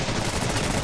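Russian pistol fire in the Ravenfield video game comes as a burst of loud, dense gunshot cracks packed into under a second.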